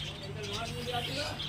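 Red factor society finches at a bird market give soft, high chirps and twitters under a steady background hum, with faint market noise around them.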